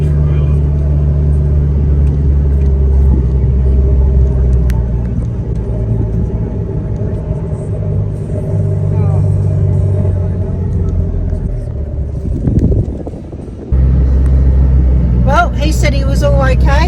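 A vehicle towing a trailer drives past on the sand at Stockton Beach, a loud low rumble that swells and fades, with wind noise and people talking over it.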